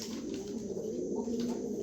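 Pigeons kept for sale coo steadily and softly throughout, a low continuous murmur close at hand with faint chirps and no speech.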